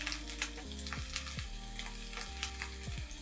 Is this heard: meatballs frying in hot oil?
yes